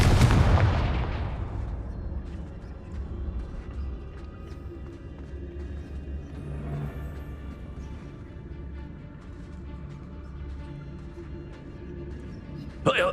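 Confringo fire-spell blast in the video game Hogwarts Legacy, one loud booming explosion at the start that decays into a rumbling tail, with low game ambience and a faint crackle afterward.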